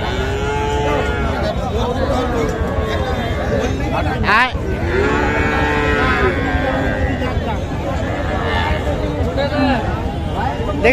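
Bull calves moo repeatedly amid a busy village cattle market crowd at Kaharol, with constant chatter and voices overlapping the lowing throughout.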